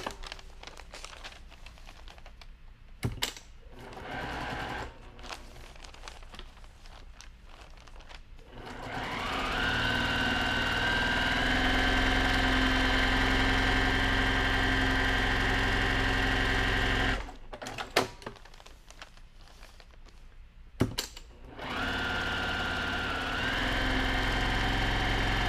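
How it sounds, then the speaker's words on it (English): Domestic sewing machine stitching quilting fabric, running in a steady mid-pitched whir for several seconds at a time with brief pauses and handling noise between runs, close and loud. "it's a little bit hard to sew standing up, so my stitches may not be perfect"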